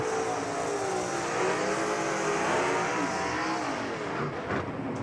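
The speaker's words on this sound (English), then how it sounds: "A little bit of abbreviated burnout by both of these drivers" Gasser drag racers at a Jackson Dragway finals doing a brief burnout side by side, a loud sustained engine roar with rising revs and tire noise, steady and close throughout.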